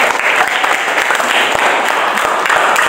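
A classroom audience claps in a dense, continuous burst of applause, close and loud for the whole three seconds, with individual hand claps standing out sharply over the steady wash of many hands.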